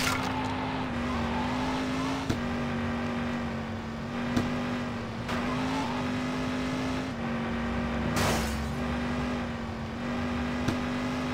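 Game car in GTA Chinatown Wars accelerating hard, a steady loud engine drone with a constant pitch, occasional shifts and brief clicks or knocks, continuous throughout.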